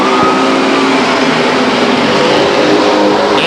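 Race cars charge through turn 3 at Stockton 99 Speedway, their engines a loud, unbroken roar with a faint rising whine as one car pushes to get past another.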